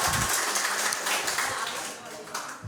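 A crowd applauding, a dense wash of clapping that tapers slightly toward the end.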